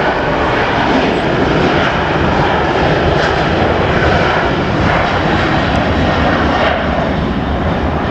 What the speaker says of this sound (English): there's another plane lining up